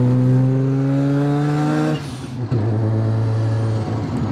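Mazda RX-7 FD rotary engine hums steadily at a buzzy, even pitch, then drops and shifts tone midway before settling into a lower running drone, heard close up.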